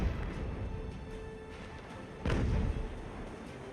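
Ship cannons fire in the naval video game Ultimate Admiral: Age of Sail, producing a low rumbling battle din with a heavier boom partway through that rolls on for about half a second.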